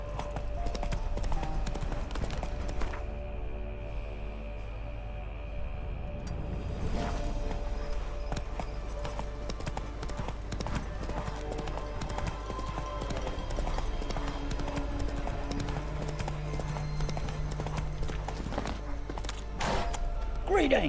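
Hooves of Roach, a horse in a video game, clip-clopping in a steady walking rhythm under game music, with someone talking over it.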